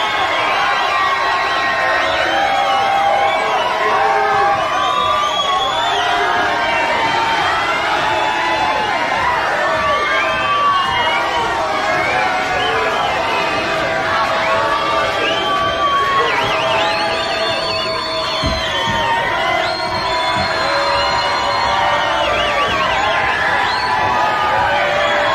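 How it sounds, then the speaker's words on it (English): A large live crowd at a 1986 heavy metal concert in Detroit roars and cheers continuously, with whoops and shouted voices layered over a dense, sustained wall of noise. "Let them hear you roar, Motor City."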